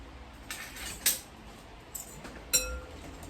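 A metal whisk clinks against a bowl of chickpea pancake batter, with a few sharp taps and scrapes spaced apart over quiet background.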